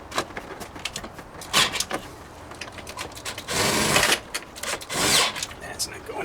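Ratchet tightening the bolts that hold the 12V battery in a Tesla Model X, coming as close, repeated bursts of quick clicking with short pauses and louder sweeps between them, and someone talking faintly at times.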